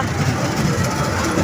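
A fairground train ride at the Karimganj Netaji Mela rumbles steadily with a low, continuous engine drone and rolling noise, loud and close throughout.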